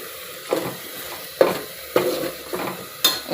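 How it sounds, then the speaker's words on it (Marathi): Masala sizzles gently in oil for a spicy crab curry while a spoon stirs it, giving a soft frying hiss broken by several distinct scraping clinks against the pan, close and without talk. "व्यवस्थित तेलामध्ये परतून घ्यायचा। मसाला छान भाजल्यानंतर"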